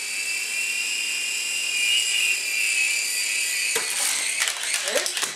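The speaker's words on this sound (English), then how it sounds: "He will start the throttle, and when it's full throttle, he'll release." An Air Hog toy helicopter spins up to full throttle and lifts off, its high-pitched rotor and motor whine steady and close, then turning into clattering bumps and knocks near the end.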